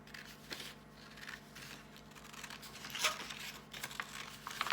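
Scissors cut down a paper medieval hat, giving quiet crinkling and snipping with a soft rustle of paper, low and close with a slightly sharper cut near the middle.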